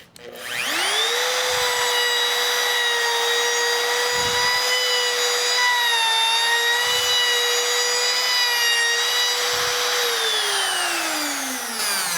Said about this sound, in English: when I drill the holes